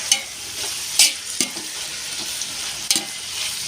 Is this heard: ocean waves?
no